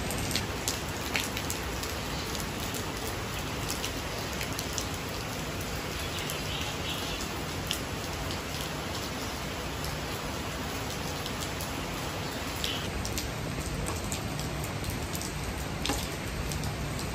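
Steady rain falls on a morning in Malaysia, a dense continuous patter of drops on surfaces, even and moderately loud throughout with no talking.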